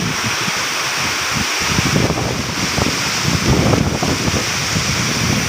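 A waterfall at Anaimedu in Tharamangalam, Salem, pours with a loud, continuous broadband rush of flowing water, swelling slightly at moments, with some wind buffeting the microphone.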